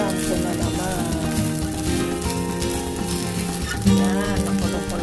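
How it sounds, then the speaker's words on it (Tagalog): Tinola, a Filipino chicken soup with chicken bones, bubbling in a pot, a continuous close sizzling and bubbling texture with a brief louder tone near the end. "Yan, nakulo-kulo na siya."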